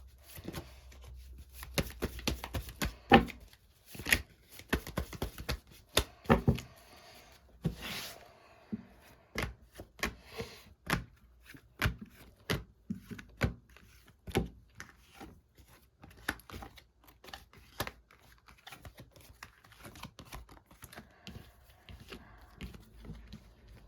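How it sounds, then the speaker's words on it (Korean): Tarot cards shuffled and drawn during a reading, a long run of dry papery flicks and soft taps that come in irregular bursts. The sound is fairly close and continues without speech. "5번님들 자 카드 뽑아볼게요"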